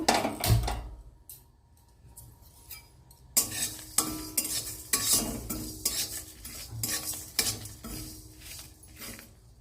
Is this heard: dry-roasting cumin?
yes